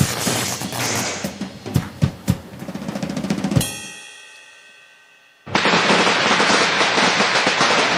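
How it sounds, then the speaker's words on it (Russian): Chinese New Year firecrackers explode in a dense, loud crackling barrage of rapid bangs, then pause briefly as a ringing tone fades, before another continuous roaring string of firecrackers bursts. "Это звук петард, рвущийся,"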